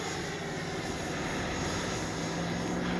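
An FMS Avanti S 90mm electric ducted-fan RC jet flies past with a steady, loud, whooshing turbine-like roar that holds strongly throughout, with no talk over it.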